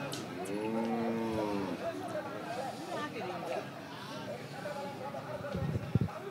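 Cattle at the Hazratpur cow market, held ahead of the 2024 Qurbani, give one long, close moo near the start. A busy hubbub of crowd voices and market noise carries on throughout.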